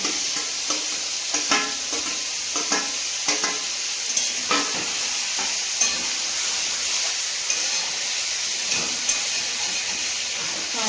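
Vegetables sizzle and hiss steadily in a hot pan, with repeated scraping stirs of a spatula cutting through the frying noise at close range.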